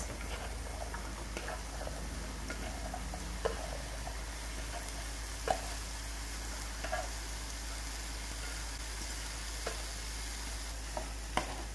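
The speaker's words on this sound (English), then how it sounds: "mix gobi with all the spices well" Cauliflower stirred with spices in a pan, giving a faint, steady sizzle with scattered soft clicks and scrapes of the spoon, no voices.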